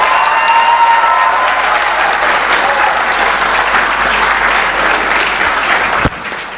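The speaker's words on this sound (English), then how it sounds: "I'd like to request everyone to give a big applause to our graduates." Audience at a college convocation ceremony in a hotel hall applauding graduates, loud sustained clapping from a large crowd that holds steady for about six seconds before cutting off abruptly.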